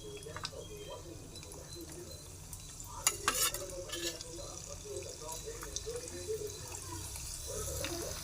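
Chana dal, urad dal and green chilli fry in hot oil for ghee rice, a soft continuous sizzle with occasional stirring scrapes and a brief louder clatter near the middle.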